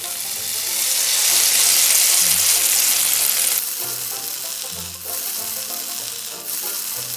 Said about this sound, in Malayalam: അപ്പൊ ഇനി നമ്മൾ എന്താ ചെയ്യാൻ പോകുന്നത് വെച്ചാല് ഇതിങ്ങനെ പൊരിക്കുക